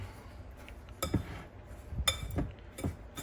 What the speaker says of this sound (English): we're going to get this stirred up just a little bit